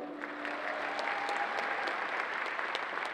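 Steady audience applause fills a cosplay competition hall at Planet Comicon 2018, a dense, even patter of many hands at moderate distance with no voices over it.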